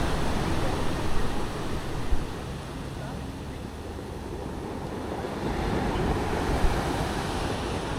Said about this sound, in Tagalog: Ang lalakas ng alon, guys,